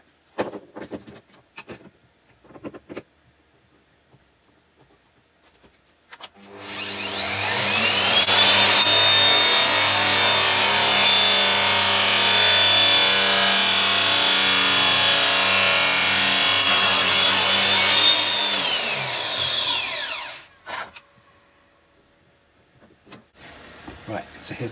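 A saw cuts a wooden test piece during compound-angle cutting, producing a loud, steady roaring whine that holds for about fourteen seconds, with quiet handling sounds before and after.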